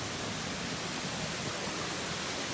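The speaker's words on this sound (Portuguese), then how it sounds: "Chegando aqui tem várias cachoeiras menores." Water at Cachoeira dos Milagres, a site of several smaller falls, rushes in a steady, broadband roar, faint and continuous with no voices.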